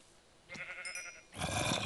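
A sheep in the Minecraft GalacticCraft mod bleats twice, the first a wavering call and the second louder and harsher, both close and clear against a quiet game background.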